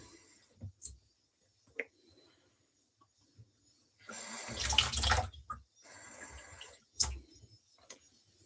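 Water running from a kitchen tap for about a second and a half to measure tablespoons for sugar cookie brownies, surrounded by scattered clicks and clinks of utensils and dishes, close and fairly quiet.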